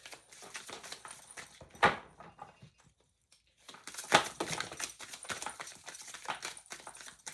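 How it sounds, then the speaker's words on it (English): A deck of cards is riffled and shuffled close up, with two sharp bursts of fluttering card noise separated by a brief quiet gap and lighter handling sounds around them. "I'm just going to shuffle you, whatever."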